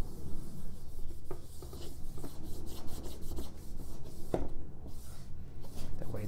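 A brush rubs oil paint into a canvas to give it a light stain before painting a dog. The scrubbing strokes are soft, close and steady, with a few sharper taps and faint background noise.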